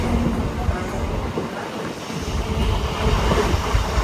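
A train rolls along the rails with a continuous heavy rumble and rattling, fairly close and loud throughout.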